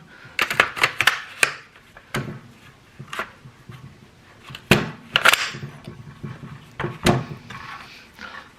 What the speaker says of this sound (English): And now, move that magazine out.